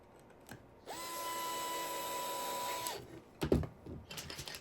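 Electric screwdriver driving a screw into the wooden base of a marble clock, one steady whining run of about two seconds with a faint click before and brief handling clatter after.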